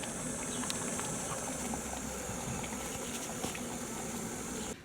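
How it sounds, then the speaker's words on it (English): Water boils steadily in a Jetboil camping stove with a dense bubbling hiss and occasional faint clicks, close and continuous before cutting off abruptly at the end. "In there, boiling away"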